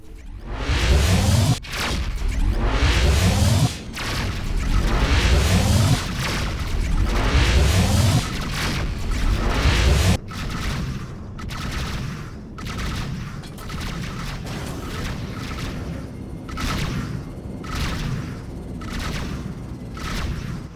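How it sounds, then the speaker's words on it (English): Missiles streak in with repeated whooshing rushes and blasts during a space dogfight in the game Rebel Galaxy, loud and dense for the first half, then thinner scattered impacts over a continuing rumble. "Missiles inbound."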